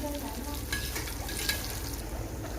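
Butter and a bowl of oil heating together in a pan, producing a steady crackling sizzle with faint tinkling pops, close and moderately loud, no voices.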